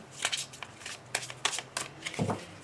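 Tarot cards are shuffled and cut in a few quick, crisp riffling bursts, close and fairly quiet, with a soft thump near the end.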